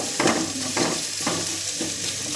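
Stir-frying in a pan in a Kerala kitchen, with a steady sizzle broken by rhythmic scraping stirs about every half second, close and clear without talk.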